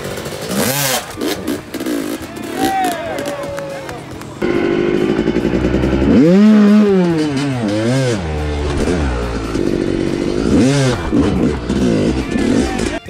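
A Yamaha YZ250X two-stroke dirt bike revs hard and pops over a wall in practice, its engine rising and falling in sharp surges with a loud climb in the middle, mixed with clattering.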